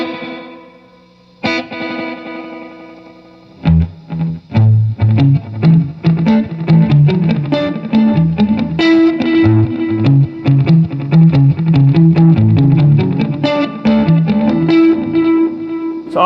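Klempt Echolette E51 tape echo set to long repeats, processing a played instrument into dense, rhythmic delayed echoes that build and stack over about twelve seconds, loud and continuous after a sparse opening.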